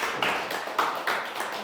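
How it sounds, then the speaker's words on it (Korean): A church congregation at a Sunday worship service claps in a few short, sparse bursts, moderately loud and close. "우리 박수 한번."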